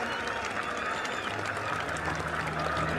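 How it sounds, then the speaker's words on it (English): Crowd applause and cheering ring out at the women's cross-country mountain bike world championship race in Cairns, Australia, a continuous fairly distant wash of clapping with a faint low hum beneath. "Let's give them another big round of applause, please, ladies and gentlemen."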